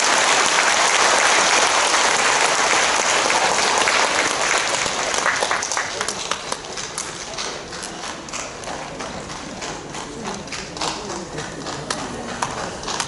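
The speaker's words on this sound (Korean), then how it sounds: "감사의 박수 해주시죠." Applause for a school choir at an entrance ceremony at Ilsung girls' middle and high school, a dense crowd clapping loudly at first, then thinning into scattered, uneven claps.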